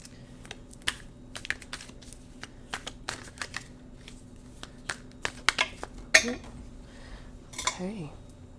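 Tarot cards are shuffled close by in a quiet room, giving a run of soft, irregular snapping clicks and riffles, with a brief voice near the end.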